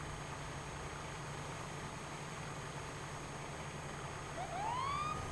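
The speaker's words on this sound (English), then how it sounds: "Whoop whoop, that's the sound of the police." Police car siren in the video game GTA 5 starts near the end, a rising electronic wail that swells over a steady low background hum, with no voices.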